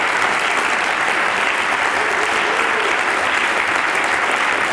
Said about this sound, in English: You may not want to give me this applause when I finish